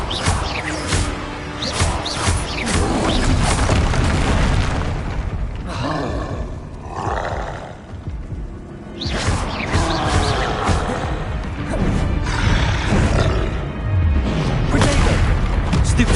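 Bombarda spell blasts from the wizarding game Hogwarts Legacy, a series of loud booming crashes and whooshing impacts amid dense combat noise, with brief lulls between bursts.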